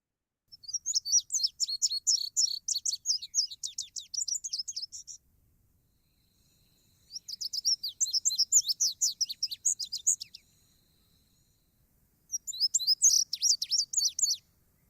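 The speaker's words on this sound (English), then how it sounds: "This is a nice bird." Recorded songbird song in three separate bursts, each a rapid, bright string of high chirping notes lasting a few seconds, with short silent gaps between them and no other sounds.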